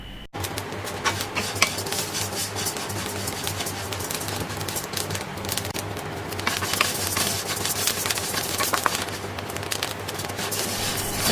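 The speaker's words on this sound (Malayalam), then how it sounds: "ഇതുപോലെ അരി പൊട്ടുന്ന ഒച്ചയെല്ലാം കേൾക്കും" Rice grains dry-roasting and being stirred in a pan over a medium flame, a steady close scraping and rustle with scattered small pops and clicks throughout, no talking.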